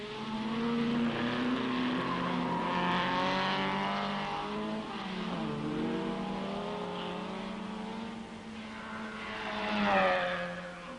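Triumph Spitfire race car roaring past the grandstands at Rouen during the 1964 Tour de France Auto, a loud, sustained engine note with pitch sweeps as it closes in and draws away, surging again near the end.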